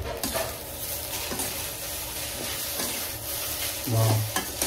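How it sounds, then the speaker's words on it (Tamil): Pepper is stirred into food in a cooking pan, with scraping and clinking utensil strokes over a low sizzle and a louder knock near the end. "கிண்டுங்க அதை. கிண்டி விடுங்க."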